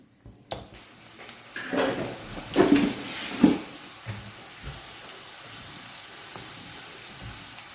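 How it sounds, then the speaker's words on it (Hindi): Shakarpara dough pieces dropped into hot oil, sizzling and hissing in short bursts as each batch goes in, then settling to a quieter steady bubbling fry. "अब इसमें हम शक्करपारे डालते जाएंगे और इसे फ्राई करेंगे दोनों साइड से गोल्डन ब्राउन होने तक।"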